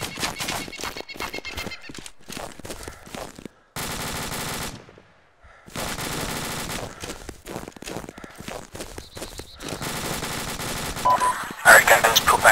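Rapid bursts of automatic gunfire crackle through a winter firefight in Arma 2, dense and near with brief gaps, voices talking over the shooting and a sharper burst closing it out.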